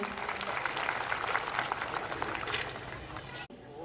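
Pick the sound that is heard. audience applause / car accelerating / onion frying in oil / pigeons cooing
audience applause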